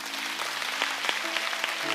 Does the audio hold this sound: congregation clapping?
yes